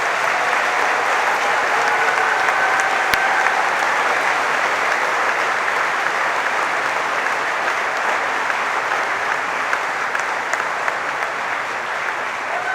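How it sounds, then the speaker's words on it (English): Steady, full applause from a graduation ceremony crowd, as graduates and audience clap to thank family and friends; dense and even throughout, with no break and no talk over it. "with a warm round of applause, join me in thanking your family and friends"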